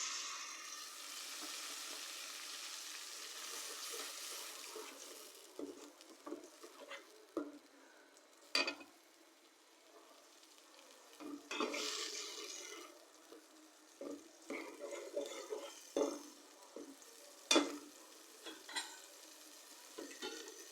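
Sliced onions sizzle in a pan with biryani masala, ginger-garlic paste and salt, a soft frying hiss broken by scraping stirs and intermittent clatter, fairly quiet with no talking.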